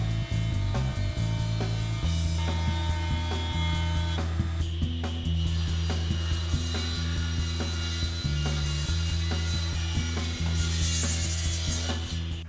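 A jointer straightening the edge of thick wood boards, its motor humming steadily and loudly while the cutterhead chatters and rumbles through the passes, with shifting tones as the board feeds across.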